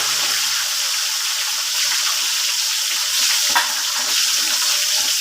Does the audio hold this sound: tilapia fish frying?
yes